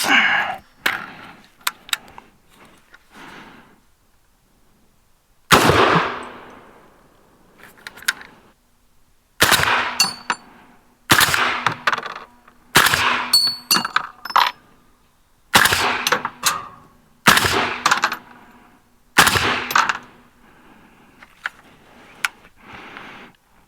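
Suppressed .308 rifle shots through a 30 caliber suppressor, about six sharp reports spaced a few seconds apart, each a loud crack with a short ringing tail, plus some faint clicks and handling noise between shots.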